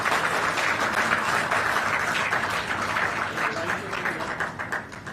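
A crowd claps steadily at an award ceremony honouring UPSC and IIT-JEE qualifiers, a continuous loud patter of many hands that eases slightly toward the end.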